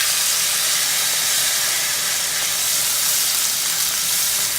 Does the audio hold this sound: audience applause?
no